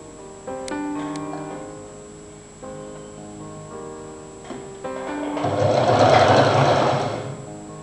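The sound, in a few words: sewing machine stitching bias strip around jacket neck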